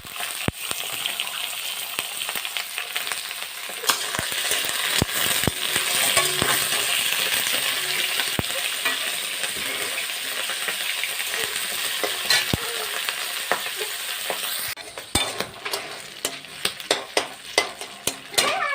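Pigeon meat frying with onions in a wok, a continuous busy sizzle broken by frequent scraping and clanking of a spatula stirring against the pan, close and fairly loud, with a brief burst of stronger sizzle near the end.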